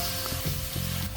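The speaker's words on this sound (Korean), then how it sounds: "1분이 지나면 뚜껑을 열고 볶아줄게요." Kimchi fried rice sizzles steadily in a hot pan over high heat, a continuous close frying hiss with soft stirring and scraping bumps throughout, no voices.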